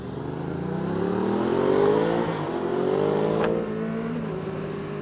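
A car fitted with a new exhaust revs and accelerates loudly close by, engine tone climbing and rising in pitch, easing briefly, then pulling again before settling into a steady drone.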